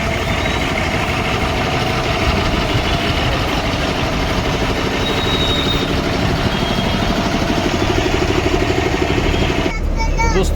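A Shivshahi bus engine idles steadily with a deep, continuous rumble, heard from inside the bus at a bus stand, with voices talking over it throughout.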